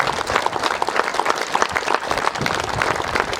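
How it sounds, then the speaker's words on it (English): School audience at an Independence Day celebration applauding to welcome the chief guest, a dense, steady burst of many hands clapping together, loud and close throughout. "we will just give a nice clap"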